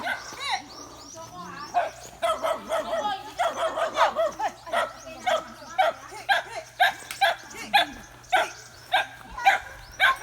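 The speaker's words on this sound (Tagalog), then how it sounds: "Ang dami na namang aso." Several dogs yap and bark excitedly, first in a tangled burst, then in steady regular barks, with a voice speaking in between.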